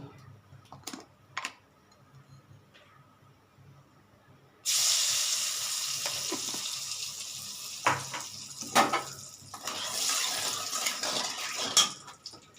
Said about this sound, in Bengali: এগুলো আমি আগে ভেজে নিই অল্প অল্প করে হালকা করে পটল দিলাম